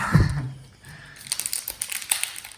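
A Pokémon card booster pack is crinkled and torn open up close, with soft crackling foil rustles and small tearing bursts after a low thump.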